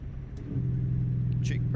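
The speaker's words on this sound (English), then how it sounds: "Jake brakes, not that bad." A truck's Jake brake in American Truck Simulator, on a Freightliner sleeper, comes in as a steady low engine-braking drone that swells and then holds, with some faint higher clicks over it.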